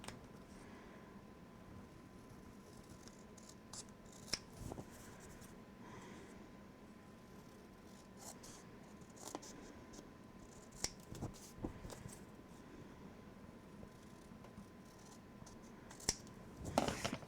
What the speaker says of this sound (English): I guess this one I'll just cut with my scissors.